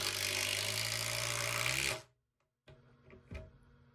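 A Milwaukee power drill drives and countersinks a screw into wood, whirring loudly for about two seconds before stopping abruptly, followed by a pause and a few faint handling knocks.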